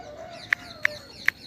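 A chicken gives three short, sharp clucks spaced about a third of a second apart, fairly close and alone against a quiet background hum.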